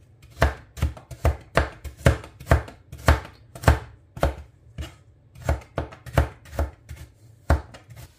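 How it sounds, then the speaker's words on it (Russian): A knife chops carrots into thin julienne strips on a board, giving a run of about twenty crisp, close strokes in a fast, slightly uneven rhythm with no talk. "Морковку режу тоненько соломкой."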